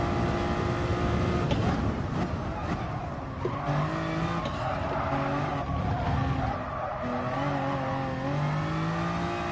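Toyota Supra race car in Gran Turismo Sport, engine revving and shifting pitch through corners with tires squealing and skidding, loud and continuous.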